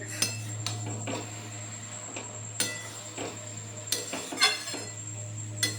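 A lid lifted off a pot of boiled papaya sets off several sharp metallic clinks and clatters at close range over a steady low hum, with no one speaking.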